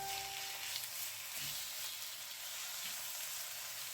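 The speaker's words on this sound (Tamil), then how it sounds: "இஞ்சி பூண்டு பேஸ்ட்டு போட்டுடலாம்னா போட்டு அதே 2 வதக்கலாம்" Ginger garlic paste sautéing in a hot pan while cooking basmati rice biryani, giving a steady, soft sizzle and frying hiss throughout, with a faint stir or scrape near the middle and no voices.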